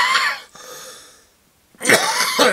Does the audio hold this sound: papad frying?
no